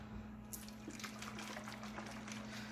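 Water sloshing inside a shaken sensory bottle, a plastic bottle with its lid screwed tight, giving repeated close splashing bursts over a low steady hum.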